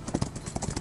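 Horse hooves galloping in the mobile video game Rival Stars on a cross-country course, a quick irregular clip-clop rhythm of repeated close hoofbeats with no talk over them.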